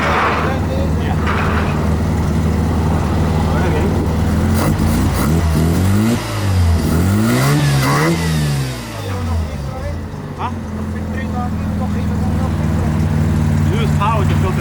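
A first-generation Mazda RX-7 engine runs loudly up close, revving up and down in repeated rising and falling sweeps before settling back to a steady idle, with voices talking over it.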